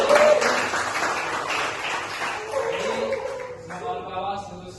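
Applause from an audience at a campus seminar, a broad wash of clapping that fades over a few seconds while a speaker's voice carries on over it.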